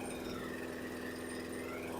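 A small engine on a 2013 Troy-Bilt push mower idles low and even, a steady close putter with a faint tonal hum, alone without talk.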